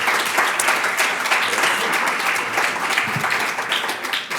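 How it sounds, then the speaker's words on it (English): Audience applause for a Catholic students' group at a healthcare symposium, a steady, dense wash of many hands clapping that holds at a constant level throughout, with no talking over it. "so give them a round of applause"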